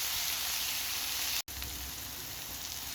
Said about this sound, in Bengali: এখন পেঁয়াজ, রসুন আর শুটকি একসাথে ভাজা ভাজা করে নেব।